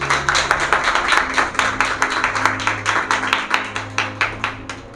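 A church congregation claps loudly together, a dense, rhythmic run of many hands beating in time, close and energetic, holding steady for several seconds with no voices over it.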